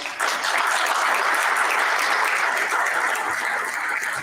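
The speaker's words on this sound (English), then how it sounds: "can we give them a round of applause?" Steady, full applause from a sizable crowd at a school board meeting, dense clapping sustained at an even loudness throughout with no talking over it.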